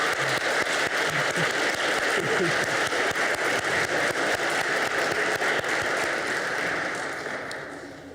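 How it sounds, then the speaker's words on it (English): A crowd at a Martin Luther King celebration claps steadily and loudly for several seconds, a dense wash of applause that fades away toward the end. "So if we can give everyone a round of applause."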